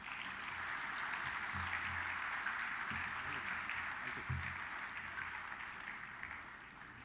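An audience at a military literature festival by Sukhna Lake, Chandigarh, claps steadily for a general, a soft continuous wash of applause with a few low thumps, distant and fairly quiet.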